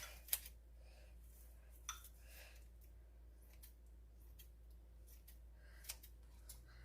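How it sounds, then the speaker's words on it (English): A few crisp scissor snips cutting spinach, sparse and irregular, close by against a quiet steady hum. "Scissors are so handy instead of doing all that chopping."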